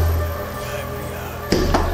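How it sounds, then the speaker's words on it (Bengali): Someone knocks hard on a door in a horror audio drama set on a rainy night: two heavy, close thuds in quick succession near the end, following a low steady hum. "দরজায় জোরে জোরে ধাক্কা।"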